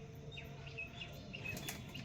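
A pigeon flapping its wings close by, a brief soft fluttering over low steady background hum, with faint chirps in the distance.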